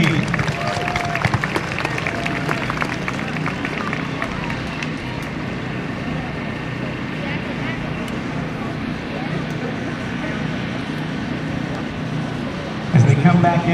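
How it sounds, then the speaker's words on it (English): Open-air airshow crowd clapping for the Aerostars formation aerobatic team, with a public-address voice talking over the applause and engine noise, the clapping fairly distant and sustained. "would you join me in one last round of applause for the Aerostars Formation Aerobatic Team?"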